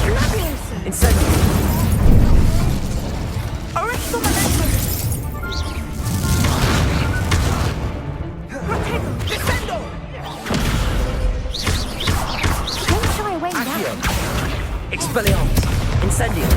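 Spell blasts and explosions from the Hogwarts Legacy video game on PS5, repeated loud booms and crashes throughout a busy combat mix, with a voice talking at points.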